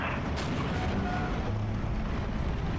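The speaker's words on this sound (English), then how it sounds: "Artillery fire coming through." Artillery fire in the WWII strategy game Steel Division 2, a steady dense rumble of distant booms and blasts with one sharper burst near the start, continuous battle noise with no talk.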